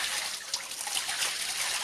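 Water poured over a bather's back, along the spine, runs as a bright, steady splashing trickle, close and continuous for a moment with no voices.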